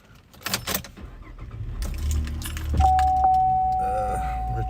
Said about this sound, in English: would help if I started the car.